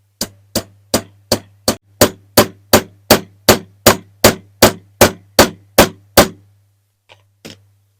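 Hammer blows drive a part onto a Corgi diecast Commer truck, about fifteen sharp, evenly spaced strikes in a steady rhythm over a low hum, then a pause and a couple of lighter taps.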